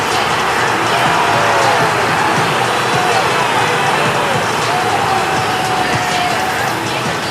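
Stadium crowd noise in the EA Sports FC 25 football video game swells into a steady, loud roar of cheering after a consolation goal, holding throughout without pause.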